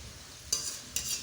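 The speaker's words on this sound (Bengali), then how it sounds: "কড়াইতে তেল গরম করতে দিয়ে এটাকে কিন্তু সবগুলোকে দিয়ে এবার ডিপ ফ্রাই করে নেব" French fries deep frying in hot oil in a wok, giving a steady low bubbling with two short, bright hissing bursts as the pieces are stirred.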